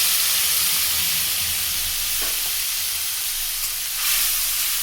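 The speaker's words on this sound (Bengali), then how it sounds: "আমি আদা লঙ্কা যেটা ভেজে রেখেছি সেটা দিয়ে দেবো" Fried ginger and green chili dropped into hot oil, giving a continuous broad sizzle that holds steady and swells slightly near the end, with no voices.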